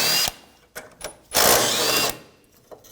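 Ratcheting 10mm socket backing out bolts on the lower radiator support of a 2013-2019 Ford Escape 2.0L, heard as short mechanical bursts with a longer whirring stretch in the middle.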